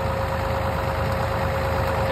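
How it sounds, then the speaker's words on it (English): A John Deere 7810 tractor, over 10,000 hours old, idles on a blueberry farm in PEI, its diesel engine knocking in a steady, close, continuous mid-pitched drone. "they've got this mounted on a 7810, probably one of John Deere's better tractors"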